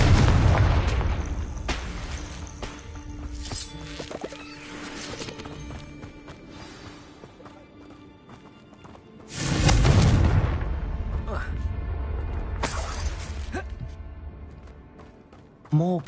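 Confringo blasting spells explode in a Hogwarts video game fight against poachers, with loud booming bursts at the start and again midway, amid rumbling game sounds and a speaking voice.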